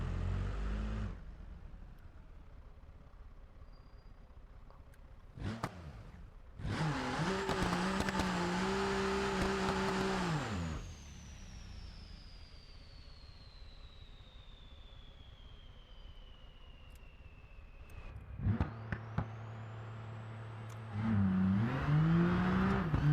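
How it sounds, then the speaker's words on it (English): Simulated car engine in BeamNG, a turbocharged six-cylinder project build, revving in loud bursts against the rev limiter with long whining tones and tyre noise between, the engine surging hard twice and then droning at steady high revs. "Because I'm hitting rev limiter."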